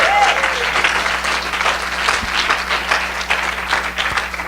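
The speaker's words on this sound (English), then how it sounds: "I want everyone to give a round of applause to them" An audience claps steadily for about four and a half seconds, a dense, even wash of many hands that stays loud throughout before easing slightly near the end.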